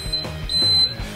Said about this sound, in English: This is diesel, so when water becomes present, the alarm goes off.